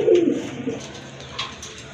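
Pigeon cooing close by, a soft throaty call that swells early on and fades, with a few fainter coos following from a grizzle hen among racing and tumbler pigeons.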